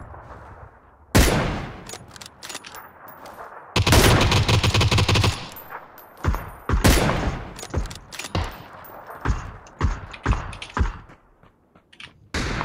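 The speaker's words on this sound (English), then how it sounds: "I'm getting shot in the back." Gunfire in PlayerUnknown's Battlegrounds: scattered single shots and rapid bursts, some loud and close, others softer and farther off, separated by quiet gaps, with sustained automatic fire in the middle and no talking.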